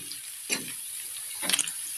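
String beans sizzling in a frying pan over steady hiss, with two brief louder scraping stirs partway through; no one talks.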